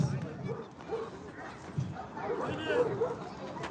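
A young male Kangal, six to twelve months old, barks in the show ring, sharp yaps and whimpers coming in short bursts under an announcer's steady talk and crowd noise.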